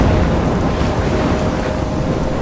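A thunderstorm in Life Is Strange is a loud, steady roar of rain and wind with rumbling low thunder, constant and close with no pauses.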